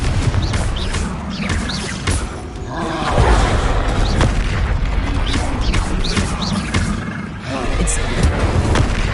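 Confringo fire-spell explosions in a Hogwarts wizarding video game: rumbling blasts and crashes roll almost continuously, loud and close, with a voice speaking over part of it.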